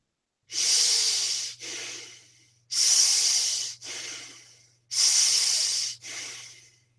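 Close, loud nasal breathing with a strong hiss through both nostrils in a mindfulness practice, alternating long inhales and shorter exhales in three paired cycles over a steady low hum.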